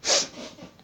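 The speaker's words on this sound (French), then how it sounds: "vous me sentez que je renifle, c'est parce que j'ai un rhume" A single short, close nasal sniff from someone with a head cold, a quick breathy intake that fades right away.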